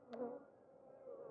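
Honey bees buzz softly during a hive inspection, a steady low drone with a faint wavering pitch over a moment.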